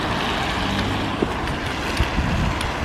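Steady, loud wind buffeting the microphone on a country walk near a pub and lay-by, a continuous roar with occasional gusty thumps and no voices.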